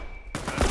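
A burst of gunfire breaks out abruptly after a short quiet moment in The Last of Us multiplayer, a dense loud crackle of shots filling the rest of the brief moment.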